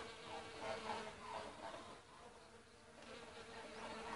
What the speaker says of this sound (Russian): Просто гул, вон сколько их летает, пчелок